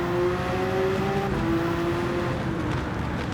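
Race cars in a racing video game at Trial Mountain, a BMW among them, roaring past with steady high-pitched engine whine that shifts in pitch, loud and continuous without speech.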